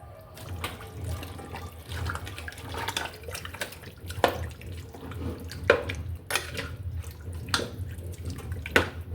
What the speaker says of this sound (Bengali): আর কিছুটা পানি দিয়ে দিচ্ছি কারণ একসাথেই তো হয়ে যাবে প্রেশার কুকারে